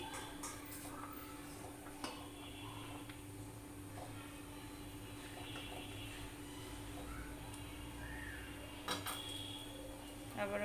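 Faint metallic clinks and clatters of a cooking pot lid being lifted and handled while making chitoi pitha, a few sharp taps scattered over steady low kitchen background hum.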